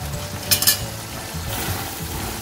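Curry leaves and two chillies hit hot oil with a dense, steady sizzle and a short scrape of stirring partway through, close and alone.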